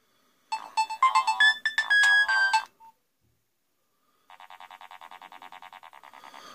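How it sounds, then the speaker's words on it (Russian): A Nokia 1600 mobile phone plays short monophonic ringtone melodies: a brisk beeping tune first, then after a pause a second run of rapid, evenly pulsed electronic tones, clear and alone without any talk. "раньше довольствовались вот такими коротенькими мелодиями"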